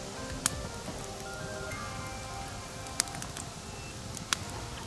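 Rain begins falling in a colourful autumn forest, a soft steady patter on leaves with a few sharp isolated drop ticks.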